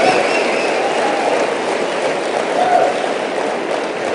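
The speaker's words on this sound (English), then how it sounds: "Give yourselves a round of applause" A large audience at a motivational talk applauds in a dense, steady roar of clapping that holds evenly loud for several seconds with no break.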